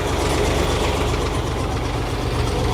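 A ferry boat's engine idles at a jetty with a loud, steady low rumble and throb that stays constant, close by and without talk.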